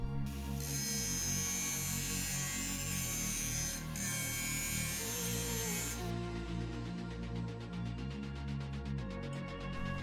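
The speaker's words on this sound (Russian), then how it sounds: "На неподвижной губке делаю фаски под сварку." Steel fixed vise jaw being chamfered for welding with a power tool: a loud, continuous grinding whine with harsh bright overtones, steady throughout, alone with no speech.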